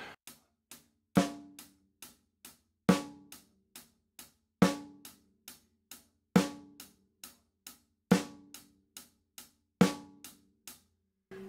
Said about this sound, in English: If we put just the hi-hat and the snare drum together, it's gonna sound like this.